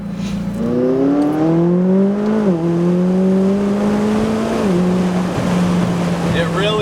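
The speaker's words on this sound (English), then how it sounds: "Does come alive above 4. MSO titanium exhaust on the back." A McLaren sports car engine with an MSO titanium exhaust revs up loudly and smoothly through rising pitch, shifting gears twice, with a deep resonant exhaust note close by.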